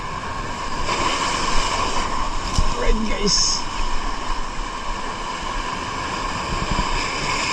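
Surf washes steadily under wind noise, a continuous roar with brief voices speaking and a few clicks and knocks nearby.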